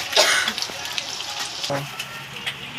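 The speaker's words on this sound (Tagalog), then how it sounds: "Ang sakit matalsika ng mantika" Hot oil splattering while tocino fries, a continuous crackling sizzle with sharp pops, heard close and under a person talking.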